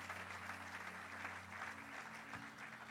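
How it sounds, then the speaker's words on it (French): A church congregation clapping together in steady applause, a dense even wash of many hands held at a constant level for the whole stretch, with a low hum underneath. "Let's clap for the word of God."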